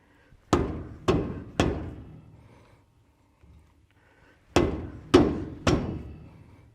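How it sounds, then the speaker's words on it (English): A hammer whacks a Toyota LandCruiser Hilux rear axle bearing during an overhaul: six loud, close metallic blows in two quick sets of three, each ringing out briefly, with a quiet pause between the sets. "You got to whack it like it owes you money."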